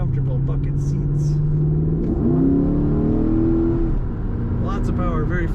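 A 2010 Chevrolet Camaro SS V8 engine revs under throttle from inside the cabin, a loud steady rumble that climbs in pitch and then eases off, with someone talking over it.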